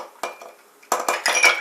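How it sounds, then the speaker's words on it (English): Big ice cubes clink and knock into a glass holding an Old Fashioned cocktail, a few bright, close clatters in quick succession, the last ones louder. "Just going to add some ice to that. Just a couple of big cubes will do."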